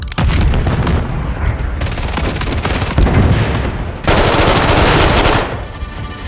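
Heavy automatic gunfire and a booming blast in the shooter Call of Duty Modern Warfare III, loud and dense, with sustained bursts broken by a sharp explosion-like surge midway.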